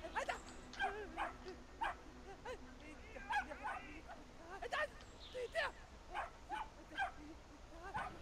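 Dog barking in the video game Brothers: A Tale of Two Sons, a run of short, repeated yips and barks spread across the stretch, moderately close, with a speaking voice mixed in.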